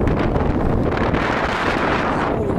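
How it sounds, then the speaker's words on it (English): Strong wind in Palm Springs buffets the microphone in a continuous loud roar, with gusty rumbling throughout and no speech. "it's hella windy"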